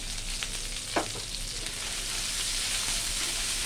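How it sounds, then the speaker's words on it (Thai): Chili stir-frying in a pan for bamboo shoot stir-fry, a continuous close sizzle with a brief scrape of the spatula near the start, steady frying hiss throughout. "ผัดพริกให้หอม"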